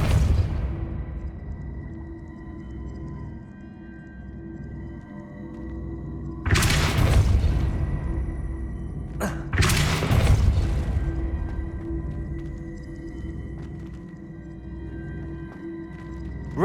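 A Depulso spell blasts out in Hogwarts Legacy, two loud broadband bursts a few seconds apart with a brief crack between them, each trailing off into a low rumble over a steady droning game ambience.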